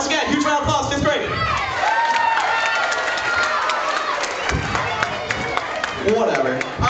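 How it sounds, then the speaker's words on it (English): An audience at an elementary school talent show cheers and claps, with children shouting and whooping over scattered applause, and voices chatter throughout. "huge round of applause, 5th grade"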